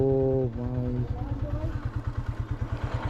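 A motorcycle engine starts with a rising whine, then settles into a rapid, rhythmic putter close by, on an off-road climb to Mirinja Valley.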